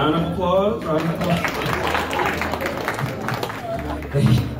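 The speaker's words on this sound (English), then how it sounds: "Round of applause." An audience claps and cheers after a live cover song, steady applause mixed with crowd noise and a voice talking over it.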